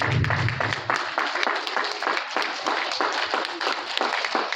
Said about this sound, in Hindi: तो हम सब लोगों को उनके लिए जोरदार तालियां बजानी चाहिए।